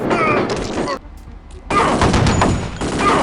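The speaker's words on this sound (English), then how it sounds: "I think this is the time to finally start using heavy cannon on a daily basis." Heavy cannon fire in the shooter game Kingpin: Life of Crime, loud dense bursts of gunfire filling the first second, a brief lull, then sustained booming shots through to the end.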